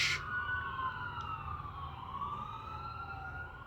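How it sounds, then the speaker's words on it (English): Ambulance and police car sirens passing on a street in Aurora, Colorado, wailing tones sliding downward as the vehicles move away, heard from indoors by a window, moderately loud and fading, with traffic rumble underneath. "Ambulance and policeman going that way, so something happened."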